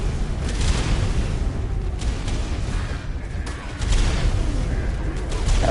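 Cluster grenade explosions in the survival game Ark, a series of heavy booming blasts with rumbling bursts, loud and near, repeating across the stretch.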